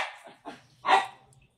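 A dog guarding a home yard gives three short, close barks, the last one loudest, with quiet pauses between them.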